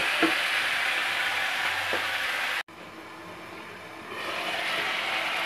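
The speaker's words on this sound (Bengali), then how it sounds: "চিকেনের থেকে যেই জলটা বেরোবে সেই জলেই চিকেনটা রান্না হবে" Chicken for Mughlai chicken lababdar sizzles and bubbles steadily in its own juices in a pan. The loud frying is broken by one very short dropout midway, then continues strongly.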